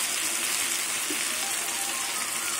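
Garlic and ginger frying with vegetables, green chili and turmeric in a pan while cooking greens, a steady close hiss and sizzle with no talk.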